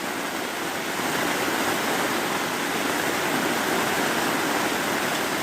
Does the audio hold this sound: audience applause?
no